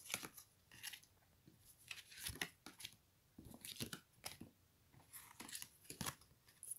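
Oracle cards being drawn and shuffled by hand, quiet close-up rustles, snaps and scrapes of card stock coming in irregular bursts with short pauses between.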